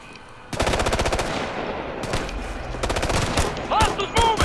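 Video game gunfire from Ghost Recon Future Soldier: loud, rapid automatic bursts crackle after a brief quiet opening, pausing and resuming in several volleys, with a few sharper single shots near the end.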